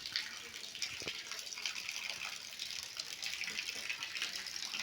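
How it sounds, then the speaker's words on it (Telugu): Heavy rainwater pours steadily off village trees during a downpour, a continuous bright gushing splash at moderate distance with no break. "చెట్ల పైన అయితే వర్షం నీళ్ళు ఎలా వస్తున్నాయో చూడండి."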